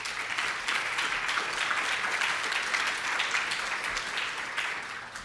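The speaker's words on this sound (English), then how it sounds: "let's give the cross-collaboration breakout leaders a round of applause here" Conference attendees applaud volunteer breakout leaders at opening remarks, a soft even wash of clapping heard from a distance and at low level throughout.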